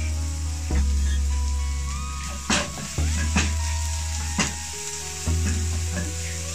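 Onion sizzling and frying in a pan, a constant crackling hiss broken by a few scraping stirs and clinks of a utensil.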